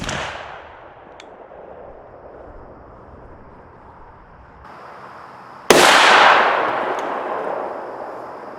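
A single loud, close shotgun blast from a 3-inch Remington triple aught 10 pellet buckshot shell fired outdoors, its sharp report ringing out and fading over a few seconds after a quiet stretch.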